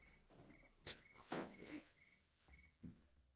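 Crickets chirp in quick repeating pulses at a steady rhythm, faint and somewhat distant, with a few soft knocks and rustles in between.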